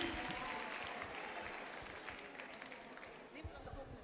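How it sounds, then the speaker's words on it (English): Audience at a youth empowerment event applauding, a dense wash of clapping that starts strong and slowly thins over a few seconds, with a voice talking faintly beneath it. "Come on, give yourselves a round of applause."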